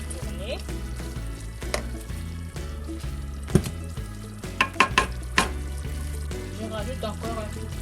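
Fumbwa being stirred in a cooking pot, steady bubbling and sizzling throughout with scattered scraping knocks of the utensil against the pot, a few sharper taps in a quick cluster near the end.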